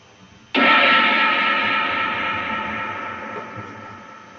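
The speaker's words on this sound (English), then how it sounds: "This is kind of just like a regular crash effect." A single sampled crash cymbal hit run through reverb strikes suddenly and washes out in a long, bright reverberant decay, standing alone.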